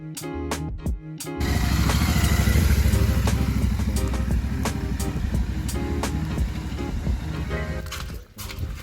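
A motorcycle being moved into a shed gives a loud, close, steady engine rumble that starts after a few sharp clicks and holds for several seconds before dropping off at the end.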